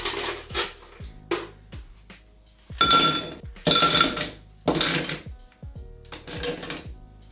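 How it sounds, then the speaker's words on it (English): Ice cubes dropped into a Hurricane cocktail glass, a series of sharp, close, bright clinks and knocks in uneven bursts, with a few louder clusters as handfuls of ice land. "So now get your Hurricane glass"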